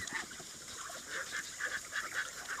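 Repeated duck quacks from a small flock on a duck farm, fairly faint and slightly distant, calling in short irregular bursts with no talking.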